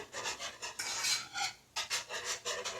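A whisk scrapes rapidly through thick cheese sauce for mac and cheese in a pot, close and fairly quiet, in short rhythmic bursts with a brief pause partway through.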